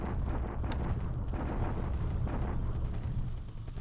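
Naval bombardment in the WWII strategy game War in the Pacific, a continuous roar of heavy explosions and rumbling booms filling the whole stretch, loud and unbroken.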